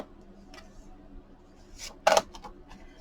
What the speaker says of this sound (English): Cut our tag shape.